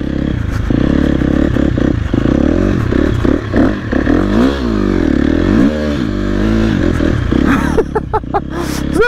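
A KTM 250 motorcycle drifts on snow, its engine revving loudly and close in rising and falling sweeps, with clattering and scraping throughout.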